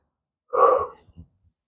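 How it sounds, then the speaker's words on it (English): A person gives one short, breathy yawn up close in an otherwise silent room. It tails off into a couple of soft exhalations. "I just got very tired, had to yawn"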